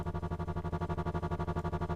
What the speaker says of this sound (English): You'll have a nice little echo, stereo delay echo.